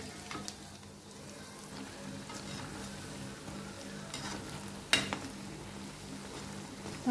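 Round lentil vadas for dahi vada frying in oil until brownish: a steady, close crackling sizzle throughout, broken by a sharp scrape as a piece is turned and a clatter at the end.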